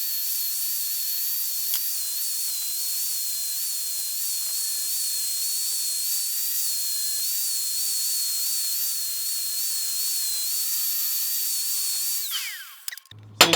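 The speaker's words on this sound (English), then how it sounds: "Then just take my flap disc onto the metal, take off any surface rust" An angle grinder with a flap disc strips surface rust off steel plate for a drift car cage build, giving a steady high whine held for about twelve seconds before winding down, close and loud.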